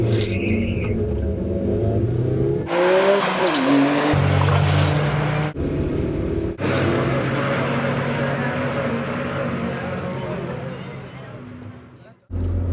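Car making a quarter-mile drag pass at a drag strip, engine roaring loud and near through rising gear changes, with abrupt cuts and tire noise, fading as it runs on; a voice talks over parts of it.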